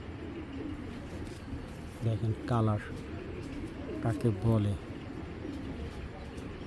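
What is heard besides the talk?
young red checker pied racing pigeon cooing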